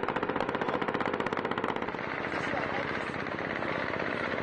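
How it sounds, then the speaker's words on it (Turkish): Rapid automatic gunfire with tracer rounds during an attack on a military post, a fast rhythmic burst of shots that gives way to a dense roar of continued firing and noise. "İzli mermiler böyle görüntülendi."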